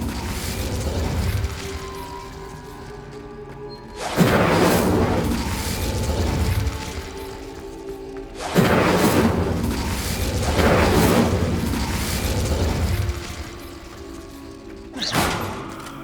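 Incendio fire spell cast repeatedly in the Hogwarts Legacy game, three loud whooshing bursts with a fiery roar, each followed by a crackling rumble that fades before the next cast.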